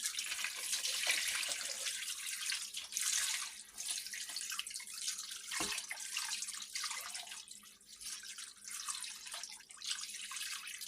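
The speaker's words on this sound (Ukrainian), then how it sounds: "Так, додаємо до нашої скумбрії. Так і заливаємо." Cold marinade is poured over mackerel being prepared for hot smoking, making a close, continuous splashing trickle of liquid that rises and eases for about ten seconds, with no talking.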